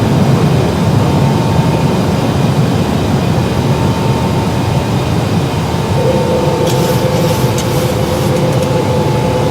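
Airliner jet engines at takeoff power in Microsoft Flight Simulator 2020, a steady broad roar with a faint whine, loud and unbroken throughout, with no voices.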